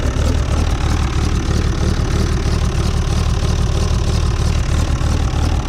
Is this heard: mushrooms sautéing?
no